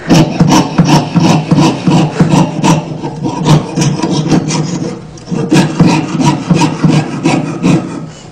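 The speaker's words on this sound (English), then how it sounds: "The saw blade's a little harder to go through and the sound changes." Rhythmic back-and-forth strokes of a hand saw rasping through metal body piercing jewelry, loud and close, with a short pause partway through.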